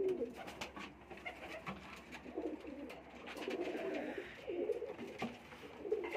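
A pair of Indian Lakha pigeons coo softly in a breeding loft, low throaty rolling calls repeating every second or so under a faint background hum, fairly quiet and close.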